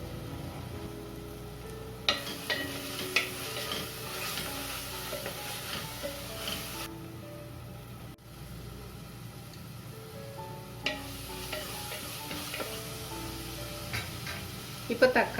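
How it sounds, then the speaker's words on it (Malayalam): Tomatoes sautéing in oil in a pan for a Kerala-style mutton curry, a steady close sizzle with the scrape and clack of stirring throughout, a brief lull midway, and no talking. "അപ്പോൾ എണ്ണ തെളിയും വരെ നമുക്കിത് വഴറ്റിയെടുക്കാം."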